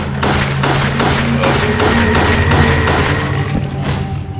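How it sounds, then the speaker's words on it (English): Repeated gunshots in the video game Resident Evil: The Darkside Chronicles, a steady rapid volley of sharp cracks over a loud, dense in-game background of rumble and tones, with no talking. "A gunshot. Back there."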